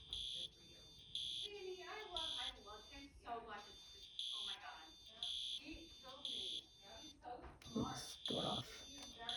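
A vintage fire alarm sounds in repeated loud, piercing buzzing bursts with short gaps, while a person talks over and between the tones.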